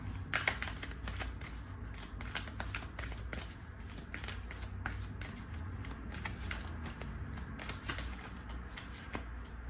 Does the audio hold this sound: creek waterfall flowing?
no